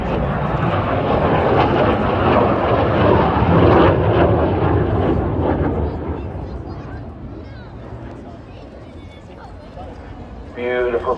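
At the Blackpool airshow, a fighter jet makes a pass with its afterburner lit. The deep, loud roar builds, holds, then slowly fades, and a voice talks over it.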